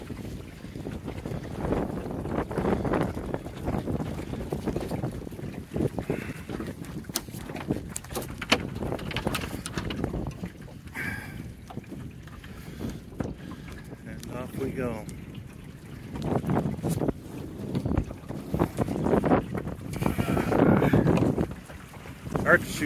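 A sailboat under sail with its reefs shaken out on the St. Louis River Estuary, wind buffeting the microphone and water sloshing against the hull, while someone talks intermittently over the gusty, shifting noise.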